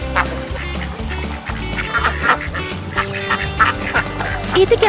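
Ducks quack repeatedly in a busy, overlapping chorus over a steady rumbling background, fairly close and loud, at an Indonesian duck race.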